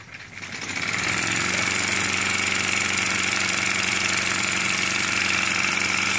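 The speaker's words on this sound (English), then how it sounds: "which is pretty good for a plastic steam engine." A 3D printed plastic steam engine with a throttle spins up to top speed, its rapid chuffing rising in the first second into a steady, loud, buzzing run heard alone up close.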